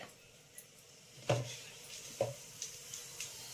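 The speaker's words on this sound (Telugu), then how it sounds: "నూనె కాగింది, తాలింపు గింజలు వేసుకుందాం." Cumin and mustard tempering seeds crackle faintly in hot oil: a soft sizzle broken by a few sharp, scattered pops.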